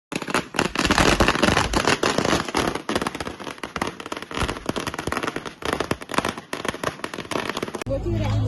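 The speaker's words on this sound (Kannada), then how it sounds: "ಈಗ ನಮ್ಮ ಕಾಲೇಜ್ ಎದುರುಗಡೆ ಪಟಾಕಿ ಏನೇನ್ ಮಾಡ್ತಾರೆ ಅದನ್ನೆಲ್ಲ ವಿಡಿಯೋ ಮಾಡಿ ತೋರಿಸ್ತೀನಿ" Firecrackers burst in a dense, rapid crackling string outside a college, loud and near, with continuous irregular pops and bangs over several seconds and voices faintly mixed in.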